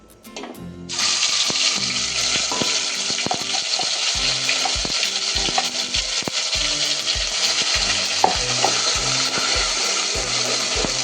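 Masala paste for a rustic black-masala mutton curry sizzles loudly in a hot pan, with a steady frying hiss broken by repeated scraping stirs, no voices.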